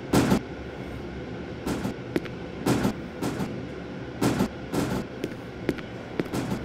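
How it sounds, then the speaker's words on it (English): Train ambience inside the horror video game IMSCARED: a steady low rumble with repeated rhythmic clacking bursts roughly every second, moderately loud and without talk. "I'm just gonna board the train."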